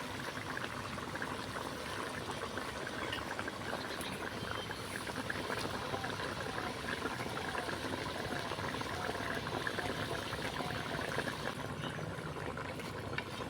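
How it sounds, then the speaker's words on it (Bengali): Onion-egg curry gravy bubbles in a covered pan, a steady soft boiling hiss and fine crackle that stays even and quiet throughout, with no talk. "ঢাকা দিয়ে আমি জলটাকে ফুটিয়ে নিব ঝোলটা ফুটিয়ে গিয়েছে"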